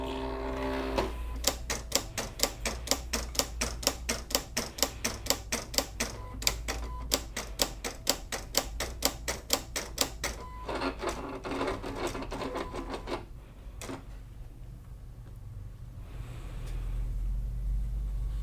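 A Silhouette CAMEO cutting machine runs a test cut on a cutting mat, giving dense, steady rapid clicking and whirring like a typewriter for about twelve seconds, then a brief pause, another short burst, and quiet motor hum to the end.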